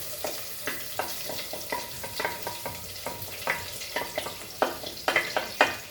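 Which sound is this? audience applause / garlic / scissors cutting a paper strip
garlic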